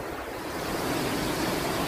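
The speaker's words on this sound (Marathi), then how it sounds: "धबधबा इतक्या वेगात आणि जोरात कोसळतो की त्याच्या आवाजात सगळा परिसर गुंजून जातो" Madhe Ghat waterfall near Pune roars in the monsoon as a steady, dense rush of falling water, loud and unbroken throughout, with no voices.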